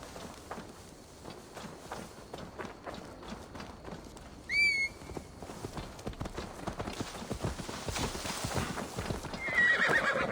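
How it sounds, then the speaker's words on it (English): Steady clip-clop of horse hooves throughout in Assassin's Creed Valhalla, with a sharp whinny partway through and another brief neigh near the end, set against a busy game soundscape. "Now to deliver Magni his horse."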